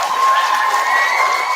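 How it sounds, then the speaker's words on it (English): A school assembly audience gives a short, steady round of applause, with dense clapping and some cheering from children filling the hall throughout. "let's give them a mini round of applause after I say their name"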